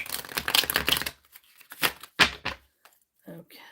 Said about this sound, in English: Okay, let's get this shuffled. Get a good shuffle in here